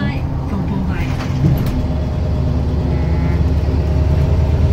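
Loud steady rumble of a city bus driving in Denmark, heard from inside with engine drone and road noise throughout, while people talk over it.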